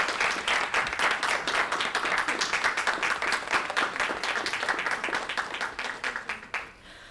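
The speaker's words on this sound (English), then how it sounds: "please give a round of applause to Dr. Canterbury and his amazing work." An audience at a Sociology Club talk applauds with steady, dense clapping that gradually fades out toward the end.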